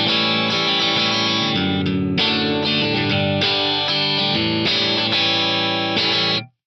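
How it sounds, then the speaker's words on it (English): Dry electric guitar played through a Brit JM45 amp model on an Axe-FX 3: loud, crunchy sustained chords changed every second or so, ringing continuously before cutting off abruptly at the end. "here's my dry sound. I'm using the Brit JM45 amp model in the Axe-FX 3."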